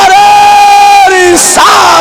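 A large crowd at an Islamic religious gathering roars a slogan in unison, producing a loud, sustained chant that breaks off and surges again.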